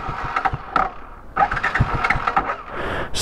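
A custom motorcycle engine cranks over a few times, then catches and settles into a loud, rough idle close by.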